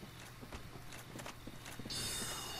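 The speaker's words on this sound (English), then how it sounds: "I hear footsteps." Footsteps in the video game Dark Souls, a series of soft, evenly paced thuds over a low ambient hum, with a brighter metallic ringing rising near the end.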